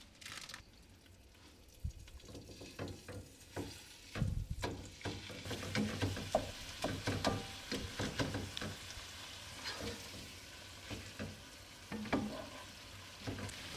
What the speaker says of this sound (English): And cook the 2nd pound of ground beef